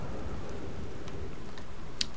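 A thunderstorm in the space exploration game Outer Wilds: steady heavy rain hiss with a low rumbling bed and a few faint crackles, then a sharp snap near the end.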